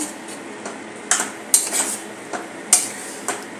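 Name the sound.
grated carrot halwa being stirred and sautéed in a pan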